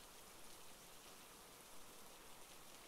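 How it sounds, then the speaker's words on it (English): Steady rain falling, a soft, even hiss of drops on surfaces with no pause, fairly quiet and constant, with no voices over it. "We don't have much choice now but to wait for this rain to slow down."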